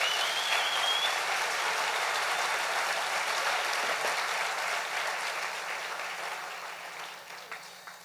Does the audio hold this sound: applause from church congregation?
yes